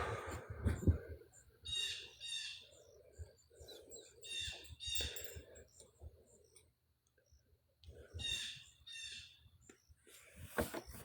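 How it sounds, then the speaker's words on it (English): Bird calling outdoors in repeated harsh, crow-like caws, a few at a time with pauses between, moderately near and alone apart from faint ticking. "I was listening to the bird."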